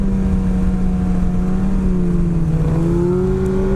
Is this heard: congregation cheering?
no